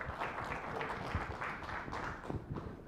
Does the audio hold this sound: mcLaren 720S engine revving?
no